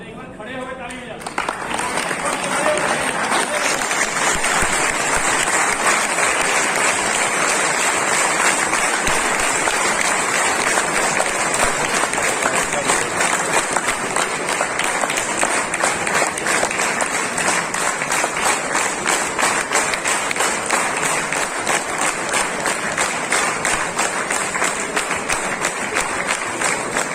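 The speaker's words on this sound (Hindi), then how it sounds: "एक बार खड़े होकर ताली बजाओ।" A standing audience at an AWPL direct-selling training session in Nalagarh claps loudly and continuously for nearly half a minute, a dense, even wall of applause starting abruptly after a moment of quieter sound.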